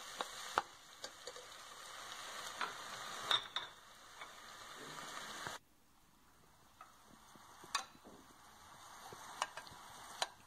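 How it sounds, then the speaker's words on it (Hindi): Ginger garlic paste and green chillies frying in a pan for fish curry, a soft steady sizzle with occasional sharp clicks and taps of stirring, quiet and close. "अदरक लहसुन का पेस्ट और सब्ज मिर्चें शामिल करेंगे और 30-40 सेकेंड तक पकाएंगे।"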